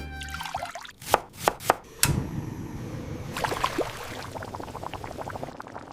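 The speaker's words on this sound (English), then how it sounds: "it even generated the sound effects automatically" AI-generated cooking sound effects: a few sharp knife chops on a board, then sizzling and bubbling with scattered clinks and taps, close and crisp.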